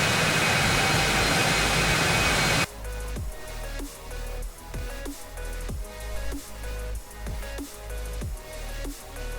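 An F-14 jet in the X-Plane 12 flight simulator gives a loud, steady engine roar, first as a dense rushing blast, then cutting to a lower whine with rhythmic repeating thumps and tones.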